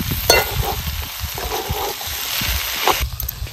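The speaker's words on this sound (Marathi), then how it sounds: "आपल्याला राहिलेला परतून घ्यायचं" Shengsola sizzling while being sautéed in a pan for a Bhogi festival meal, a steady close frying crackle with a few louder stirring scrapes and no talk.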